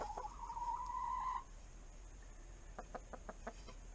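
Backyard chickens clucking and pecking close by: a sustained tonal cluck at the start, then a quick series of five or six sharp pecking taps against a steady low hum.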